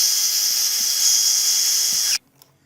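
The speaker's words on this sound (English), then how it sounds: "Drill those holes just a little bigger" A small electric drill with a 1/8-inch bit whines steadily at high pitch while enlarging holes for a bracket mount on a 2022–2025 Silverado/Sierra 1500 pickup, then cuts off abruptly into quiet.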